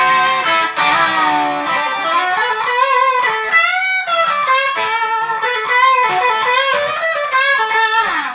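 A gritty, overdriven electric guitar played through an overdrive pedal with a little distortion plays a melodic line of sustained, bending notes, loud and continuous with no talking.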